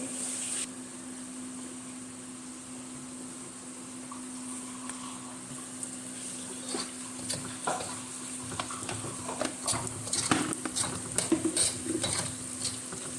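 Curry paste frying with chili powder in a pan, a steady close sizzle broken by repeated stirring scrapes and clicks that grow busier toward the end.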